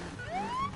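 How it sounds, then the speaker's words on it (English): In the racing game Need for Speed Payback, a police-style siren used as a car horn gives one brief rising wail, rather faint under a steady engine and game background. "I've got the siren as my horn. Can you hear that?"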